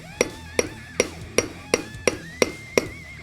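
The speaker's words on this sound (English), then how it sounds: "We're just going to tap that lightly into position." Socket tapped onto a bearing's outer race on a John Deere front axle, eight evenly spaced sharp metallic hammer strikes, close and clear, with no talk.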